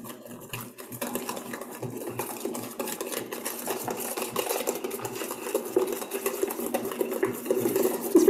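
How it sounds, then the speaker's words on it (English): Eggs and other ingredients being whisked together in a bowl for a St. Patrick's Day recipe, a steady, busy rhythmic clatter of whisk against the bowl running continuously and close for the whole stretch, with no talking. "And this is going to get whisked together."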